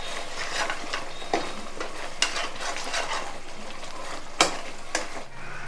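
Onions sizzle and fry in a pan for chicken curry while being stirred, with a steady sizzle broken by scraping stirs and a few sharp utensil clinks against the pan.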